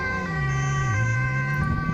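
A Dutch ambulance siren on an emergency run in Zoetermeer wails loud and steady, sounding alone with no voices over it.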